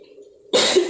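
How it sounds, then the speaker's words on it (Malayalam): A person with an allergy gives a single sharp cough, close and loud, after a brief quiet moment. "അലർജി ഉള്ളതുകൊണ്ടാണ് ഞാൻ ചുമക്കുന്നത്"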